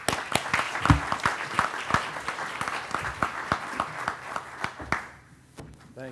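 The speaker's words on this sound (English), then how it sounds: "So if we can have a round of applause for Dan DeMaio." A small business forum audience gives a round of applause to welcome a speaker, with sparse, distinct hand claps in an uneven rhythm fading out near the end, fairly quiet and without speech.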